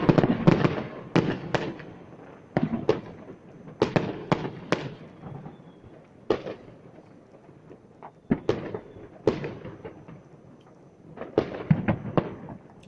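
Sharp firecracker bangs go off one after another at uneven intervals, some doubled, each followed by a short fading rumble.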